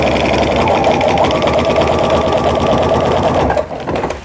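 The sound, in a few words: home sewing machine with walking foot quilting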